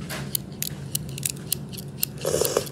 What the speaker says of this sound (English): we have some scissors